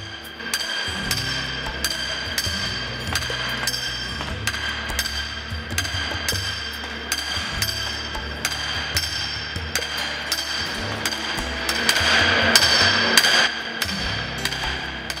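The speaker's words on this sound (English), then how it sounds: "A threaded rod is then set into the hole and hammering it through the Deadwood and keel begins." Heavy hammer blows ring out one after another, driving a threaded rod through the wooden deadwood and keel of a schooner; the strikes fall in a steady, uneven rhythm with metallic clinks, close and loud.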